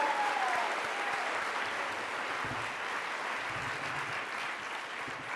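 Graduation audience at a Year Up Bay Area ceremony applauding, a dense, even wash of many hands clapping that stays steady and moderately loud throughout, without voices.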